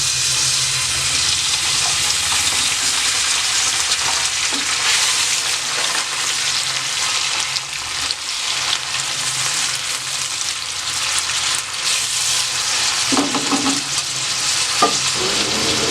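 Green chilies, a large tomato and almonds frying in hot oil give a loud, steady broadband sizzle throughout, with occasional stirring clinks and scrapes near the end; no voices.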